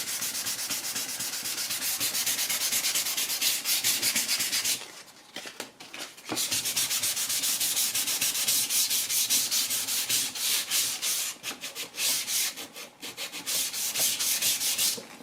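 Close, steady rasping of sandpaper rubbed back and forth in quick strokes over the grain side of a leather strop, pausing briefly partway through before resuming.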